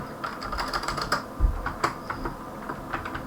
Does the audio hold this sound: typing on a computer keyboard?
yes